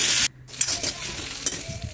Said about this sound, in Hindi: फिर सरसों का तड़का लगाएंगे और इसमें मिर्ची, मेथी पत्ता, प्याज डाल के अच्छे से भूनेंगे